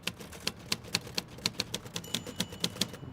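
Typewriter keys strike in a steady, even rhythm of sharp clacks, about four per second, with a faint bell-like ring near the end, close and alone in a film scene.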